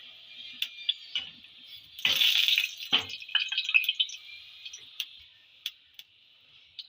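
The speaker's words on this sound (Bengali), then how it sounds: "তেলটা গরম হয়ে গেছে, তেলের মধ্যে আমি দুটো শুকনো লঙ্কা দিয়ে দেবো।" Two dry red chillies dropped into hot oil for a fish curry, giving a steady faint sizzle broken by scattered ticking pops and a louder crackling burst as they hit the pan.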